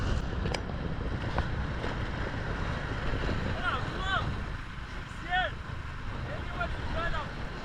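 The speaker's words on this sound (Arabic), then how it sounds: "كاين الريح شويه الخوت" Wind blows steadily by the sea, a constant broadband rush buffeting the microphone with no break, while faint distant chirps or squeaks come through now and then.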